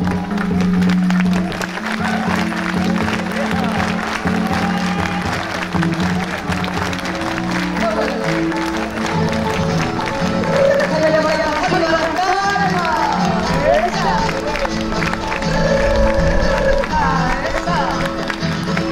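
At a champions series ceremony in Pichilemu, a crowd claps along in rhythm over music, with voices and cheering mixed in throughout.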